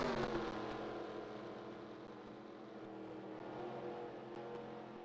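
Stock cars in a 2000 Gatorade 125s qualifying duel accelerating as a pack, a low, steady engine drone with a slightly louder start, heard from a distance without commentary over it.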